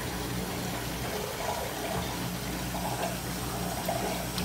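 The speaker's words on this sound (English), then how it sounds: "I'm slowing this water flow way down because it does not need to be that fast" Water flowing steadily through an aquarium overflow drain system in a fish room, a continuous close rushing and gurgling wash with no talk.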